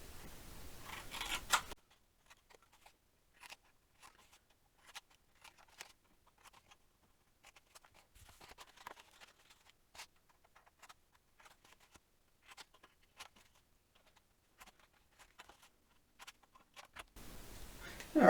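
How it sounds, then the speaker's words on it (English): Scissors snip the four corners from graduation-themed paper for a mini album, a string of quiet, sparse cuts and small paper rustles in a hushed room, with faint louder noise at the start and end. "take a pair of scissors and cut out these 4 corners"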